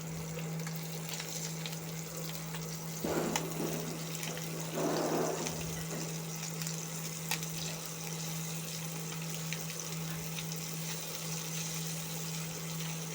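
Small sardines fry in a pan with a faint, steady sizzle over a low hum, swelling briefly twice as pieces are turned.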